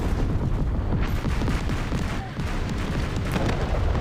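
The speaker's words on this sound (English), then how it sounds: "Okay, shells landing." Heavy shells fire and land in War Thunder Mobile's naval battle around the Kronshtadt heavy battlecruiser, heard as a dense, continuous wash of rumbling booms and blasts with no clear gaps.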